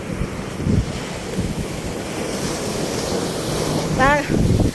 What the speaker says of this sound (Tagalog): Nangisog ang dagat